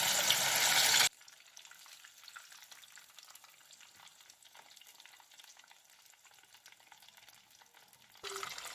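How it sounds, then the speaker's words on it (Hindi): Chicken mushroom pockets deep frying in hot oil, a loud rushing sizzle for the first second that settles into a soft, steady bubbling hiss, then swells loud again at the end. "अब हम इसमें अपने चिकन पॉकेट्स को फ्राई करेंगे।"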